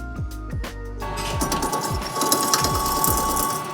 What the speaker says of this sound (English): This machine is precisely trimming off excess metal from these alto saxophone bows.